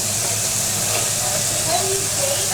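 Lemon juice hits a hot pan while deglazing, giving a steady, loud steaming hiss that fills the whole moment with no pauses and no voices.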